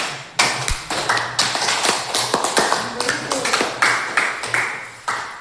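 Students in a classroom clap their hands together after the teacher asks them to, a dense run of sharp, close claps over about five seconds.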